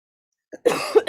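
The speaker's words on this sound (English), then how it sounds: "I do have a slight cough" A couple of short, close coughs, the second one sharper, with a faint breath before them.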